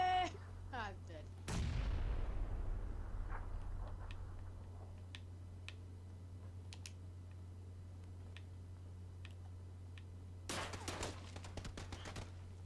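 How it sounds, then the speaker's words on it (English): Gunfire in the video game PUBG, played on Xbox One X: a loud blast opens over a steady low hum, followed by scattered faint single shots and then a dense rapid burst of gunfire near the end. "Someone's fucking firing at me."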